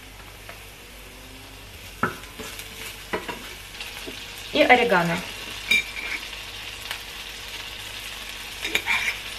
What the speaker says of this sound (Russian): Не жарим чеснок слишком долго